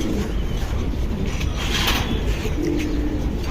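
Silver pigeons cooing at a loft, a low soft coo rising twice amid steady background noise and a faint breezy hiss, no talking.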